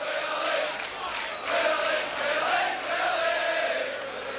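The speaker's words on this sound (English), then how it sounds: "The Leeds crowd at last having something to shout about." Rugby league crowd at Leeds cheering and shouting, a broad roar of many voices from a distance that swells and sustains without a break.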